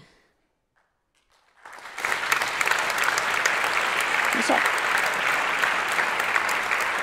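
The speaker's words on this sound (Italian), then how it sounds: "Ma l'hai fatto partire tu l'applauso?" Audience applause breaks out at an Italian political talk about Elly Schlein, secretary of the Democratic Party, starting after a near-silent pause and a brief spoken word, then holding steady and full until the end.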